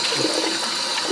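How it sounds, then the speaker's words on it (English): Steady running water rushes and splashes continuously while a blender jar is rinsed out after making celery juice, loud and close with no talking. "You just rinse it. You don't have to use soap or nothing."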